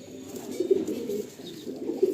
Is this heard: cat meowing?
no